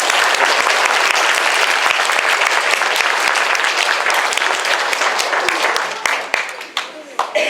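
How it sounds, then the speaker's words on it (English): An audience at an elementary school end-of-year awards ceremony for first and second graders applauds the students, a steady, loud wash of clapping that thins out into scattered claps near the end. "let's give those students a round of applause"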